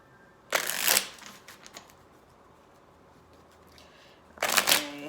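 Tarot cards being shuffled by hand in two short crisp riffling bursts, close and fairly quiet, with a soft pause of light handling in between.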